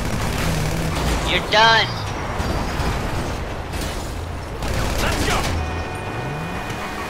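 Gunfire in a video game: a few sharp shots and bursts over constant game background noise, with someone talking over the action.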